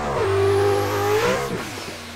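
A Nissan S15 drift car with an RTR motor revs hard up and back down, its rising and falling engine tone loud and close, with no talk.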